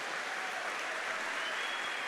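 A church congregation applauding during a Catholic Mass, a dense, steady wash of clapping from many hands, moderately distant and continuous without voices.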